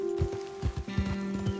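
Rhythmic hoofbeats of a horse galloping at a steady pace in the video game Red Dead Redemption 2, up close and clear over a faint steady background tone.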